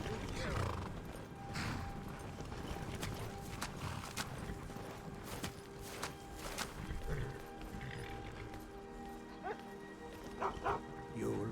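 A dog in the fantasy video game Skyrim lets out several barks and yips at scattered moments, mixed with whimpers, as game characters talk throughout and hoof clops sound in the background.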